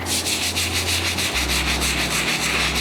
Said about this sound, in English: go in with the stiff bristle brush, dip that in there